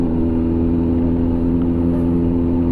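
A loud, steady Kawasaki motorcycle engine drone with a deep rumbling hum, fitted with an SC-Project exhaust, close by and continuous, with no speech.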